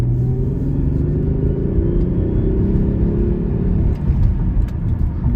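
A 1993 Ford Probe GT in second gear after a downshift gives a steady, loud low engine rumble and drone with road noise, holding an even pitch throughout with a slight surge near the end.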